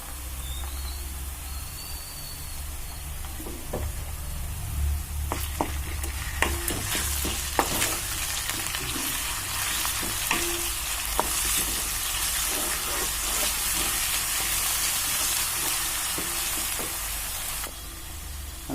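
Ginger garlic paste sizzles in a frying pan, a close, constant crackling hiss with scattered sharp spatter pops and scraping stir sounds, then it thins out near the end.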